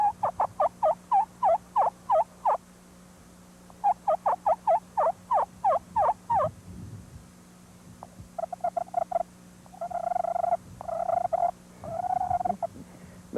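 A slate turkey call is scraped to imitate a hen turkey, giving bursts of rapid yelping clucks in several runs, then softer purring strokes, close and clear in a quiet setting.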